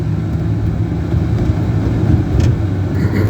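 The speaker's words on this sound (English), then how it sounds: "He sped up in that little car" A small car speeds up, its engine producing a steady loud low roar that stays close and constant throughout, with no voices.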